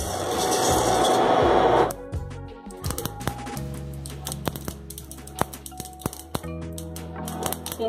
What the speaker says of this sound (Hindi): तेल गरम हो गया है, अब इसमें 1 चम्मच सरसों डाल देंगे।